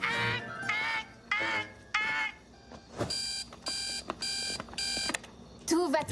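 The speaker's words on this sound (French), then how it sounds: "Tu n'as pas un réveil super embêtant qui fait..." Shrill, annoying alarm clock ringing in a cartoon scene, four bright repeated buzzing bursts sounding loud and close, with speech and other vocal sounds before and after.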